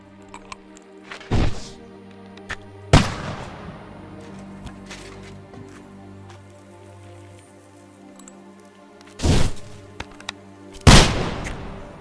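Arrows loosed during an archery contest in Kingdom Come: Deliverance 2, heard as four separate thuds and twangs spread across a quiet stretch, each one close and fairly loud.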